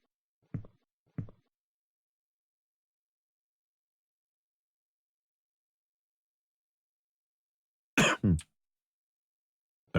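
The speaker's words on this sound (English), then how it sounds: "Sorry. Coughing." Two short coughs, then a pause and two harsher, louder coughs from one person close by, with long silence between them.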